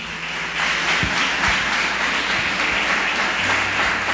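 A church congregation at a Baptist service claps together in a lively, steady burst of applause that fills the room, with a few sharper taps standing out and no talking.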